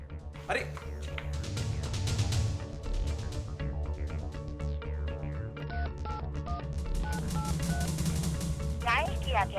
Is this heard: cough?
no